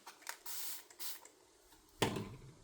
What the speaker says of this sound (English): I'll spray it with water